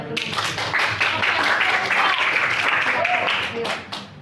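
Students in a classroom clap for a classmate, a lively patter of many hands close by that holds steady for about four seconds before tapering off, with some voices mixed in.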